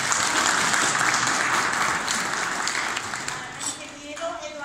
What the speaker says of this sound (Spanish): Si quieren, denle un aplauso